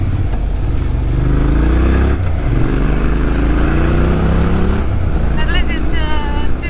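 Motorcycle ridden through corners on an Alpine road, engine droning steadily close up with rising and falling revs as it shifts gears, wind rush throughout, and a voice speaking briefly near the end.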